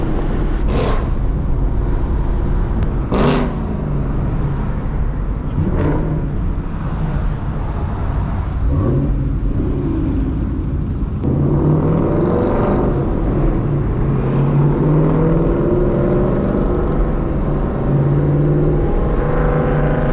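Supercharged Mustang with a Procharger, a 2019 Mustang GT nearby, revving loudly on a road cruise; a steady deep engine roar with rising and falling rev sweeps and boost whine, up close throughout.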